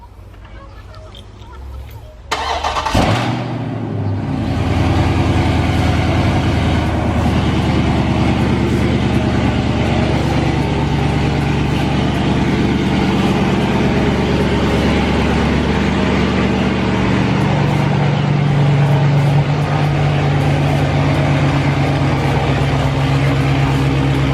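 A car fitted with catless midpipes and a mid muffler delete cranks and starts after a short quiet moment, then settles into a loud, steady, deep idle that continues close by.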